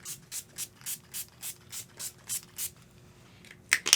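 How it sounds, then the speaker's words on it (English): NYX Matte Finish setting spray is misted onto a face in about ten quick, evenly spaced pumps, each a short close hiss, followed by a couple of louder bursts at the end. "I'm going to use the NYX Matte Finish Spray."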